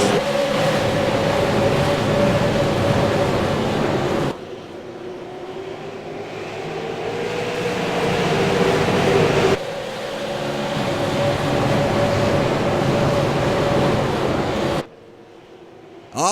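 Race cars accelerate at the green flag at USA Speedway, a loud, sustained roar of engines that swells and fades as the field passes, with abrupt changes in level.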